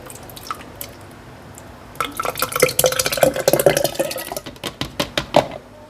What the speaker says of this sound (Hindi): तो मैं इसमें दही डाल दूँगी।